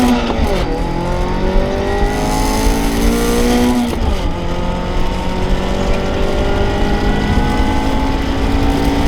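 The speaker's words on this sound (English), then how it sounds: "So first thing we're gonna do is some quarter-mile pulls." A tuned Mazda ND Miata accelerates hard through a quarter-mile pull, its engine loud and close with rising revs that climb steadily, pause briefly at a gear change, and climb again.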